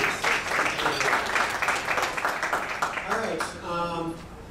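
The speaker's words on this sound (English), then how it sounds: "Again, another round of applause for Brian." Audience applause after a presentation at a cloud computing talk, steady moderate clapping that thins out toward the end, with some talking mixed in.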